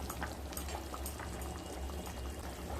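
A thin katla fish curry with drumsticks and potatoes bubbles in a pot, a close, steady simmer of popping bubbles and hiss with a low rumble beneath, continuous and without speech.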